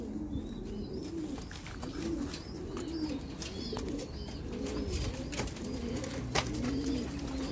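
Pigeons coo softly in a loft, repeated low rolling calls overlapping at a moderate distance, with faint chirps and small knocks in the background.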